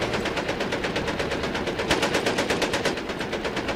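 Rapid sustained burst of automatic fire from a Falcon machine gun in Battlefield 4, a steady fast rattle of shots running the whole stretch at close, loud level with no talk.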